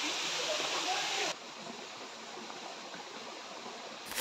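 River water rushing near a waterfall in Sikidiri, Ranchi, Jharkhand, a steady broadband hiss that drops to a softer, more distant wash partway through.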